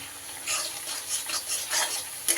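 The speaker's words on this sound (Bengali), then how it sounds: "খুব সুন্দর করে মশলা আবারও কষিয়ে নেব।" Ground cumin and coriander sizzling in oil with ginger and tomato in a pan for small-potato dum aloo curry, a soft, steady crackle broken by repeated scraping stirs.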